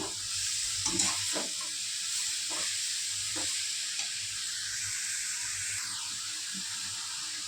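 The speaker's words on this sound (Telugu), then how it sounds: "కాసేపు నెయ్యిలోనే వేగనిస్తాము" Grated carrot sizzles steadily in hot ghee for carrot halwa, a continuous close frying hiss with a few soft stirring knocks and scrapes near the start.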